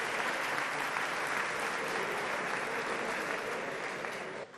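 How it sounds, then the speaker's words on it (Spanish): Dense, sustained applause from a large audience at the inaugural ceremony of a centenary celebration, loud and even throughout before tapering off at the very end. "Pero fuerte el aplauso para los tres."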